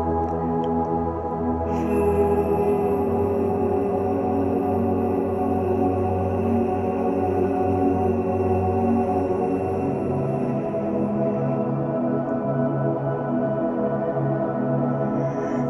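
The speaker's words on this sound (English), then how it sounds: "The VOO sound is often a sound that can feel really awkward and uncomfortable at first" A long, sustained low voiced tone held steadily, like a deep hummed 'voo', continuing evenly without words.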